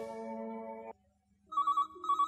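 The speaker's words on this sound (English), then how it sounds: "Just then, the telephone rang." A telephone rings with a steady electronic trill that stops briefly, then a second higher two-tone ring comes in bursts, loud and close, with no voices.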